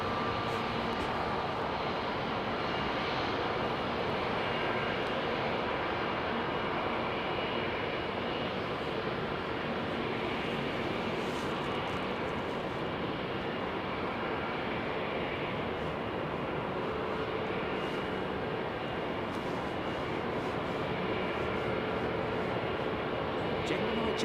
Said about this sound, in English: It's lovely old clip-wing 777 with GEs on her, look.